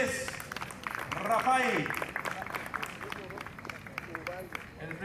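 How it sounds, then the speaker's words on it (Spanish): Audience at a livestock auction applauding a sale, a steady clatter of hand claps mixed with crowd chatter and an auctioneer's voice over it. "Fuerte el aplauso, señores."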